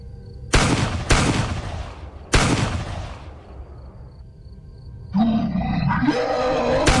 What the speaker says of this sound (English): I panicked, grabbing my gun and firing.